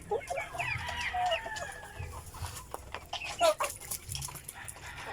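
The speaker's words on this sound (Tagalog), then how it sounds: "Yung ating mga alaga mga kaputak, mga malulusog yan kahit murahin lang yung pinapakain natin." Free-range heritage and cross-bred chickens cluck and call in a busy run, with several overlapping bird voices and a few louder squawks standing out nearby, and low background noise underneath.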